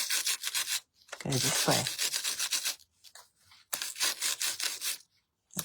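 A brush rubs small loose bits off a stamped paper card during card-making, giving bursts of dry, scratchy scrubbing strokes close by, broken by short pauses, with a voice speaking briefly between them.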